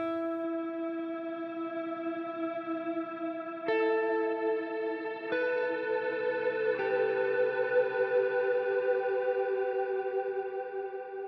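Electric guitar run through a Line 6 Helix reverb with modulation, sustained chords ringing in a shimmering, chorused wash, with new chord changes struck around four, five and seven seconds and the tail swelling steadily, no voices.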